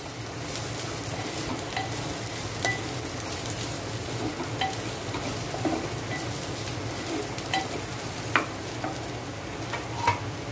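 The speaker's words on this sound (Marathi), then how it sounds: "आता आपली फ्राय केलेली कारली टाका. पुन्हा व्यवस्थित ढवळत ना" Fried bitter gourd is stirred in a pan, a dense steady sizzle with scattered light clicks and scrapes of a utensil over about ten seconds, close and even in level, with no voices.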